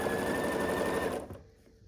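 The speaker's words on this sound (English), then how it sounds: "And then we'll line this side up and sew across." A sewing machine stitches a seam on a churn dash quilt block with a fast, even, continuous whirring chatter, then stops abruptly, leaving a quiet room.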